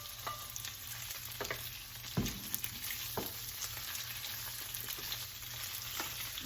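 Garlic and chile frying in oil for a carrot and jalapeño escabeche, a steady close sizzle broken by several sharp scrapes as the pan is stirred, with no talking.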